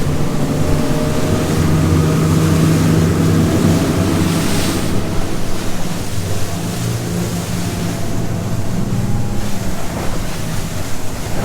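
Boat engine drones steadily as the hull runs down choppy sea back toward the dock at Bud and Mary's, with constant wave slap and wind rush over the microphone throughout.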